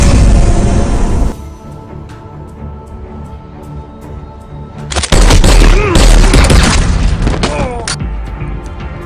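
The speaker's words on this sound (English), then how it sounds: "Gon showed up from the elevator and shot him dead" A gunshot in a film scene, fired at close range in an elevator lobby: a sharp, loud boom bursts in over a tense music score, then a dense flurry of crashing impacts and rising noise follows as the music continues.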